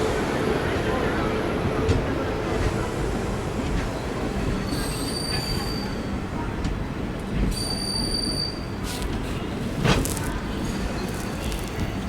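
A Dadar–Tirunelveli Super Express stands at a station platform, a steady broad rumble of rail noise with faint high wheel squeals and a brief clank near the end, with people talking in the background throughout.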